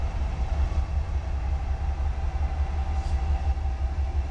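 Freight trains meeting at Oyama Yard, North Carolina, give a steady, loud low rumble with a faint hum above it, continuous and close throughout, with no voices.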